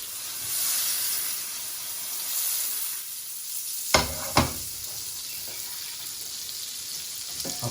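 Butter melting in a pan for apples sizzles in a steady, close hiss, with a couple of sharp clinks or taps midway and faint clicks near the end.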